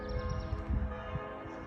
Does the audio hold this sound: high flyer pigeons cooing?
no